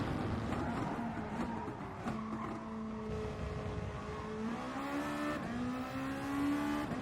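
Race cars in the video game Gran Turismo Sport, with a steady engine drone whose pitch climbs and drops through gear changes as the cars pull away during a daily race.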